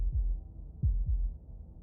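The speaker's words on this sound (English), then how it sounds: "That was the sound of a heartbeat" Low, muffled heartbeats pulse in Slay the Princess: a lone thump followed by a close double beat, soft and deep over a quiet background hum.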